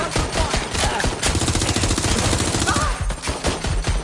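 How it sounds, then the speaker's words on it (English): Rapid automatic gunfire in the video game Watch Dogs Legion, dense machine-gun bursts rattling loudly and almost continuously, close and harsh, with no talking over them. "Suspect shooting!"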